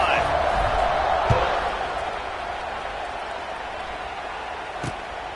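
Football stadium crowd at an Oklahoma State game, a broad steady roar of cheering that fades slightly, with a couple of sharp thuds and a commentator talking over it.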